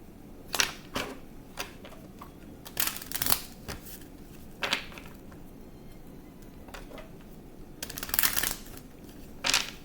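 Cards are shuffled in short bursts of riffling and snapping, with quiet pauses between them and no voices.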